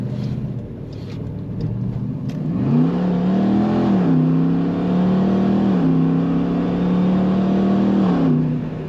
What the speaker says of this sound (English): Nice mean sound of this Jeep.